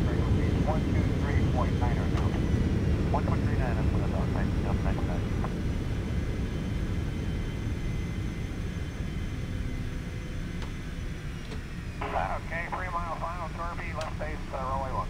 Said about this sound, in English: 87 Papa Romeo, runway 1, clear to take off